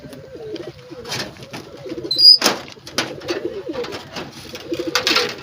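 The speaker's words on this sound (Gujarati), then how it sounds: "આપણે આની અંદર 4 કબૂતર છે" Four caged pigeons, kept as two pairs, coo softly in repeated low throaty bursts at close range, with a brief flutter partway through.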